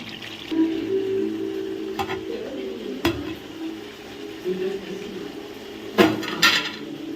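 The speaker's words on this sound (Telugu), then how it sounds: "ఇప్పుడు ఇందులో మటన్ అయితే వేసుకోవాలన్నమాట కలిపి ఉంచుకున్నాం కదా అదైతే వేసుకోవాలి" Raw mutton tipped into a cooking pot and stirred, a steady sizzle and fry under a few clanks of a spoon against the metal pot, close and continuous with no talk.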